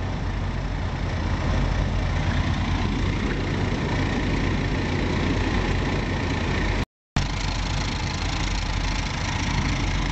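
A Hadley Puffy air horn compressor, freshly installed, pumps air up to pressure with a steady, loud droning hum. The sound drops out for an instant partway through, then carries on unchanged, with no voices.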